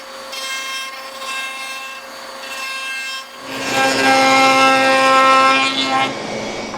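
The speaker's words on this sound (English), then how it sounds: "I've got a router bit that I just take and run a new beaded edge on here and it cleans it up pretty good" Power router with a beading bit cutting a new beaded edge on an old wooden shutter during restoration: a steady high motor whine that deepens into a louder, rougher grinding as the bit bites into the wood.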